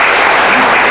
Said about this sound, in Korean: 모두들 큰 박수로 맞아주시기 바랍니다.